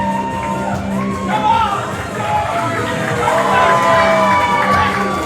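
A live pro wrestling crowd cheers, whoops and shouts loudly in an arena, a dense swelling roar of many voices with individual yells rising above it.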